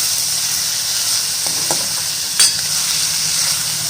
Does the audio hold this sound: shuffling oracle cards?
no